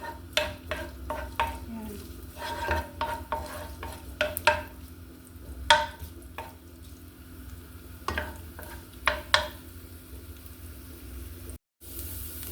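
Ginger sautéing in a pan as the first step of a beef goto (rice porridge), with a spoon clattering and scraping in a quick, irregular rhythm over a soft, steady sizzle, close by.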